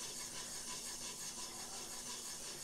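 A new blade sharpened on a stone with circular strokes under even pressure, a faint steady rhythmic rasping and rubbing with no talk.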